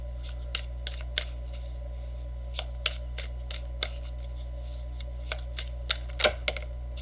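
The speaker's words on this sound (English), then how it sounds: "So I'm just going to pull one final card." Tarot cards shuffled and handled during a reading, a run of soft crisp snaps and flicks scattered at uneven intervals over a steady low hum, close and fairly quiet, with no talking.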